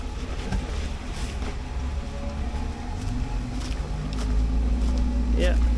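An off-road vehicle climbs a steep rocky trail of about a 20% grade in southern Ohio, its low engine rumble steady and building toward the end, with people talking over it inside the cab.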